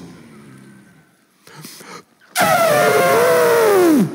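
A voice gives a loud, drawn-out growl imitating a lion, rumbling and falling in pitch, after some softer breathy sounds.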